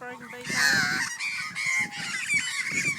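Magpies call in harsh, gull-like squawking cries, a run of close, loud overlapping calls with wavering pitch, and faint voices murmur underneath.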